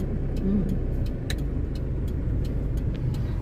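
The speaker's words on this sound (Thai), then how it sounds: "นี่เห็นไหมมีรถมาจริง ๆ" A car approaching on a narrow curved road, its engine and tyre rumble steady and fairly close, with light clicks and ticks inside the vehicle and no talk.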